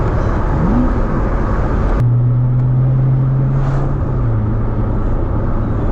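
A C7 Corvette Z06 drives with a loud, continuous engine drone and road rumble. A steady low tone holds throughout, with a sharp shift partway through as the note drops and settles, and no voices.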